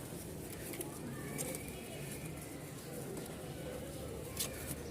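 Pigeons in a loft give soft, low cooing calls, faint and close together, under someone talking.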